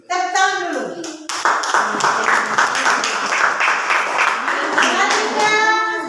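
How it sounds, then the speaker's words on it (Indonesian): Students in a classroom break into applause for a group, with children's voices at the start, then brisk close clapping that carries on steadily as voices mix in toward the end. "Tepuk tangan dulu."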